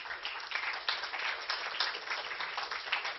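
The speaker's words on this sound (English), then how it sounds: "Please give her an applause" An audience applauds an illustrator at a book launch for "Unusual Essays of an Unknown Sri Vaishnava," giving steady, dense clapping from many hands that carries on evenly without a break.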